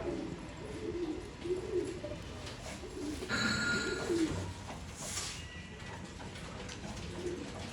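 Old-line pigeons for sale in Bangalore coo softly in low, repeated throaty phrases against a quiet background, with faint brighter rustles and bird sounds mixed in.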